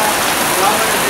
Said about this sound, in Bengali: কিরম বৃষ্টি নামছে দেখেন রাস্তা বারে পুরা বৃষ্টি হইতেছে আজকে